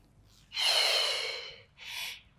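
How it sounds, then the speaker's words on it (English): A breath forcefully exhaled during a Pilates upper back and shoulder exercise: one long, loud breathy rush, then a second shorter exhale close by, with no talking. "Down. Exhale."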